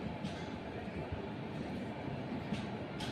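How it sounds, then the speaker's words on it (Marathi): An express train rushes through a station platform without stopping, a dense steady rumble of wheels and carriages at close range, with faint rail clatter throughout. "एक जलद गाडी जाणार आहे."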